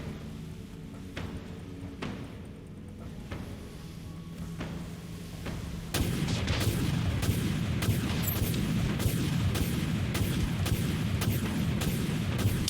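Missile launches and heavy warship weapon fire in the naval combat game Dreadnought, a low rumbling bed that jumps louder midway into a dense run of repeated booming blasts and sharp cracks, steady and close.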